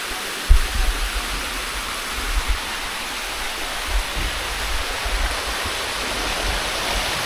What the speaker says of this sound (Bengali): ঝর্ণাটা এখান থেকে দেখা যায়, ঝর্ণা নামতেছে